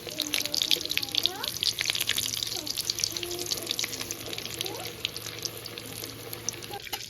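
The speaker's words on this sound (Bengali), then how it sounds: "বন্ধুরা চুলোর আঁচটা আমি একদম লো করে ভাজবো" Prawn chops fry in oil over low heat with a steady, close, hissing sizzle and light crackle throughout, while a person talks over it.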